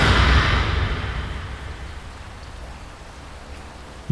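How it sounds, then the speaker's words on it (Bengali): Dense, steady hiss of heavy rain falling, loudest at the start and then settling into a constant wash. "বাইরে মুষলধারে বৃষ্টি পড়ছে।"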